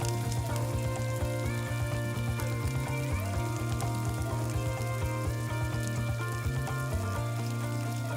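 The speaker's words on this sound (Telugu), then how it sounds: "ఆయిల్ వేడెక్కిన తర్వాత మసాలా పెట్టిన లెగ్ పీసులని 1 by 1 వేసుకొని కదపకుండా 2 నిమిషాలు వేయించుకుందాం" Marinated chicken leg pieces frying in hot oil for biryani, a steady close sizzle and crackle running unbroken throughout, with a low steady hum beneath.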